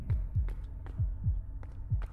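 A heartbeat effect thumps in a horror ghost-hunting game, Forewarned, with six low, close double-beat pulses in a quick, uneven rhythm and no other sound.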